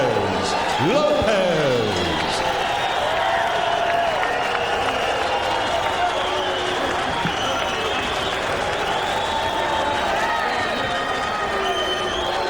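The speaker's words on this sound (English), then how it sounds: "Crowd responding here to Lopez's success." Boxing crowd cheering and applauding after a majority decision in the Aaron Davis vs. Jose Luis Lopez welterweight fight, a loud steady arena roar with whistles early on, under an announcer's voice.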